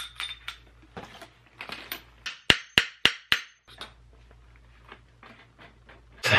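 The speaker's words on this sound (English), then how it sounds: "Let's see how my fork setting tool does." A fork setting tool seats a crown race onto a bicycle fork in a bike workshop, giving four sharp, loud metallic strikes in quick succession amid lighter clinks and taps, with no talking.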